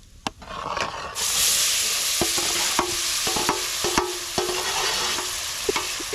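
Cut lemon pieces tossed with fenugreek powder and spices for an instant pickle, a spoon knocking and scraping the pan in irregular close strokes over a steady sizzling hiss.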